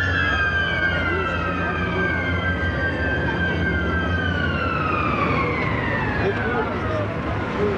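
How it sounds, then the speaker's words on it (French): Emergency vehicle sirens wailing loudly and steadily nearby, their pitch sliding down as they pass, over road and traffic noise. "Avec les sirènes"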